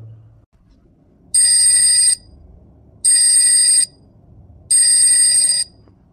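A phone's ring tone sounds three times in evenly spaced, bright electronic bursts of about a second each, with quiet gaps between, as the call goes unanswered; no one speaks.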